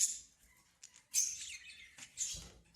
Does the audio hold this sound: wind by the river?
no